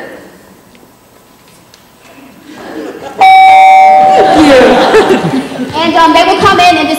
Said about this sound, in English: I will ring the bell like so